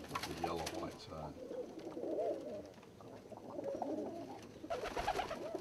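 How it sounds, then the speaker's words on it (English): Pigeons in a holding loft coo softly in repeated rolling calls, with several birds overlapping at moderate distance against quiet background rustling. "This is where I keep the birds when I'm not breeding them."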